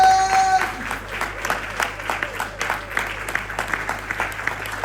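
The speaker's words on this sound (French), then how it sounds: "Vous se levez pour acclamer le nom du Seigneur." A church congregation applauds and cheers during a French-language worship service, steady clapping with crowd noise lasting the whole stretch, after a brief held musical tone at the start.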